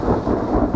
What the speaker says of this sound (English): And that means the storm's moving away.